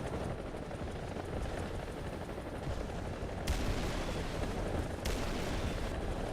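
Gunfire and rocket launches from an AH-1G helicopter in War Thunder, a dense continuous roar of engine rumble and firing, with two sharp loud cracks marking launches partway through, and no talk.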